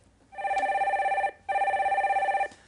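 A telephone rings twice in a radio studio as a call-in listener is connected, each trill lasting about a second with a short pause between.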